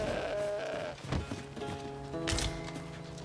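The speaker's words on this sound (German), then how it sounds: "Oh, guck mal, da Ziege." A goat in Dragon's Dogma II gives a short bleat near the start, heard over steady game music with a second cry later.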